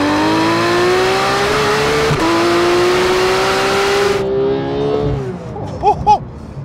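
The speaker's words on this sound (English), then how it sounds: "you know all about the engine and all about the amazing soundtrack. Although, let's just have a quick refresher." A 2018 sports car's V10 or flat-six engine revving to 9,000 RPM, a loud rising howl that climbs, upshifts and climbs again before cutting off, followed by faint brief voices.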